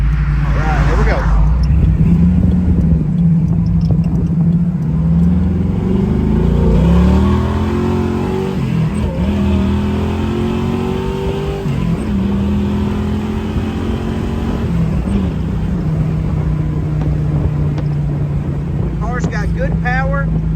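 A 1968 Chevrolet Camaro SS convertible accelerates hard, its V8 engine climbing in pitch through several gear shifts, loud and close from inside the car, with someone talking over the engine.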